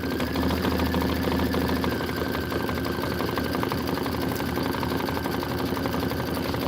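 A Kimberbell embroidery sewing machine stitches an Autumn Acres apple tree design in a steady, fast, even mechanical whir that runs without pause, close and moderately loud.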